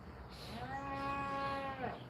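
A single long, drawn-out moo from a cow in a video game, clear and fairly close, rising then tailing off, with no talk over it.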